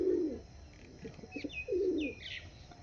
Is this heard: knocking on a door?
no